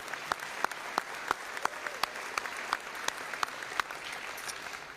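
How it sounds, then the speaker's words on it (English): Audience at a football game ceremony claps steadily for several seconds, a moderate, slightly distant applause with a few sharper individual claps standing out. "so we can give them a round of applause."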